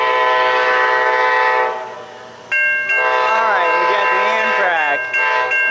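A CSX or NS freight train rolls past near Selma, its horn sounding in long, loud sustained blasts that pause briefly and then return, with steady rumble underneath.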